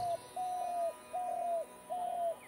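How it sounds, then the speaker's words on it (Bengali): Dove cooing from a crack in a broken-cornice rooftop, heard as four soft, drawn-out, evenly spaced coos against quiet background, with no voices over them. "কার্নিশ ভাঙা ছাদের ফাটলে কোথায় ঘুঘুর ডাক"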